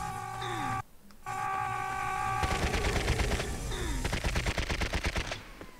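Dual Uzis rattle in Serious Sam: Next Encounter, a fast rhythmic burst of close, loud gunfire after a stretch of tonal game sounds and a brief silence, ending abruptly.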